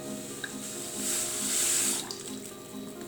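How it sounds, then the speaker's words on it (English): Liquid contents poured into a bowl to make Kaltschale, a cold German fruit soup, giving a steady watery hiss that swells in the middle and then tapers, heard close up with no talking. "Pour the contents in."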